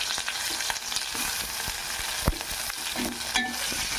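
Onion pieces with ginger garlic paste fry in a pan, giving a steady close sizzle broken by the scrapes and clacks of stirring, with no voices.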